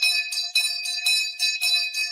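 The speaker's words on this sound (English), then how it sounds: "Hit the fucking bell." A bell rings in rapid repeated strikes, about seven bright metallic hits in two seconds, each with a sustained high shimmering tone, loud and close, with no talk.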